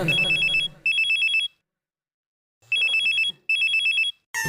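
A phone rings with an unknown new number calling, a loud, close electronic warbling ring in clipped bursts separated by a long silent gap, then ringing again before cutting off.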